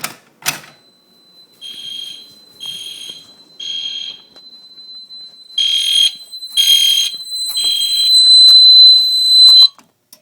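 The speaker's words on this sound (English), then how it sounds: "There's the smoke detector." A smoke alarm beeps loudly in a series of shrill, evenly spaced chirps during a system test, then sounds a longer continuous tone before stopping abruptly.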